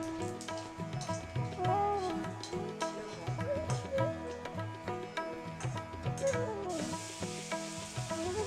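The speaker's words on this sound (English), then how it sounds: "My mother heats up the oil, she adds the spices" Spices sizzling in hot oil for Bengali rohu fish curry (rui maacher jhol), with a steady, moderate frying hiss and occasional stirring under prominent melodic music.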